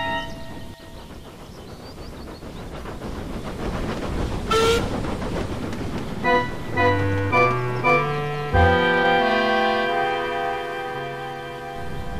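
A steam locomotive clattering along with a supply train, with continuous loud rumbling and clanking, followed by a series of stepped whistle tones layered over the running noise.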